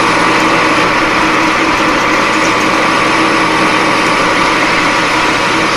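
An aluminum part being cut off on a lathe at about 200 RPM under power feed with cutting oil, a continuous loud whirring machine drone with a steady hiss, unbroken and without speech.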